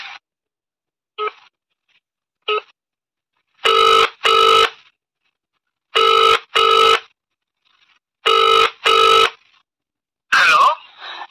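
Telephone ringing during a call: paired bursts of a bright electronic ring repeat in a steady rhythm, preceded by a few short faint chirps, loud and close against silence, with no talking.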